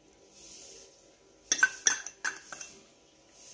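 Mixing pastel dough of egg yolk and butter in a bowl, with a few close clinks and scrapes of a utensil against the bowl in a short burst, otherwise quiet.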